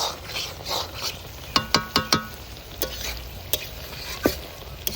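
Chicken meat being stirred as it fries in an iron wok, with a run of sharp, close scraping clicks from the stirring over a low, steady sizzle.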